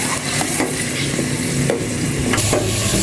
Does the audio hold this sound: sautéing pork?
yes